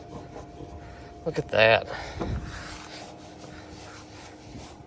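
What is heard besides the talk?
wiping grill shelves with an oversized grill cleaning cloth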